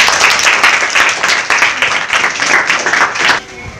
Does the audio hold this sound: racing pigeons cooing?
no